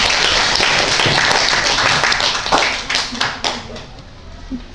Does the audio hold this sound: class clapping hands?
yes